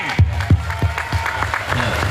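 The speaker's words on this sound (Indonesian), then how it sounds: "Tepuk tangan untuk Om Jen." Audience applause at a city anniversary wayang golek show, a brief crowd clapping with a few loud thumps near the start, a voice briefly heard over it.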